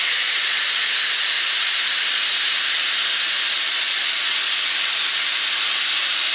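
A brake bleeder tool draws brake fluid during a brake job, giving a loud, unbroken airy hiss that stays constant from start to finish and sits close, with no talk.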